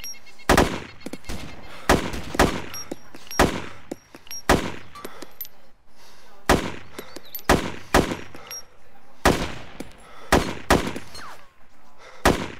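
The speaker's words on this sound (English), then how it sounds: "Firing." Gunfire in the video game DayZ: loud, close shots in quick irregular bursts and single cracks, repeating across the whole stretch with short pauses between volleys.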